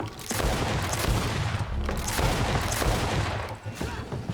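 Rapid sustained gunfire in the video game GreedFall, a dense barrage of loud shots rattling continuously for several seconds with only brief lulls.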